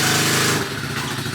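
A Chinese dirt bike's small engine buzzes loudly at a steady high rev, then drops to a rougher, slightly lower running note, close by and alone.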